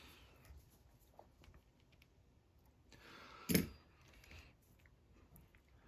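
A single quiet snip of scissors cutting off excess material on a damsel fly, a brief sharp click amid faint handling rustles at a tying bench, no talking.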